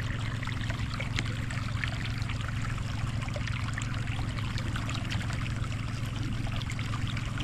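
Water pours steadily from an irrigation hose into a calamansi field, a continuous trickling rush over the low, even drone of running pump engines.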